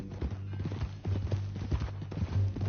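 Horse hooves clip-clop in Red Dead Redemption 2, a steady close rhythm of hoof strikes over a low constant hum, with brief voices mixed in.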